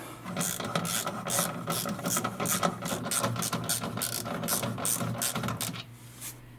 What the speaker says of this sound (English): Before we tighten all the bolts on the skid plates, we will tighten the bolts on this plastic panel